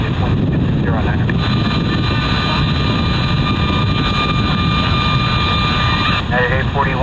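A heavy Boeing 777-300ER landing in a crosswind on runway 28C at Chicago O'Hare, its engines a loud, sustained roar with a steady whine, while air traffic radio voices talk over it.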